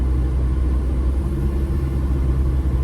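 A TDI Jeep Wrangler with an AW4 automatic transmission cruises at light throttle, its engine giving a steady, close, low rumble with no talking.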